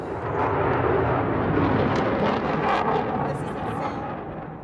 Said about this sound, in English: what we hear in the back, you know, it's a plane. That's a jet.